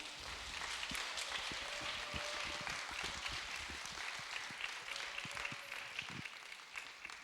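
In a church hall at a young adults' Sunday worship service, the congregation gives a lecturer a quiet, distant round of steady applause.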